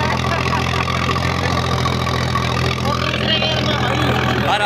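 A 50 HP tractor engine pulls an 11-tine cultivator, running in high gear with a steady, loud, continuous diesel drone and low rumble throughout, close and unbroken.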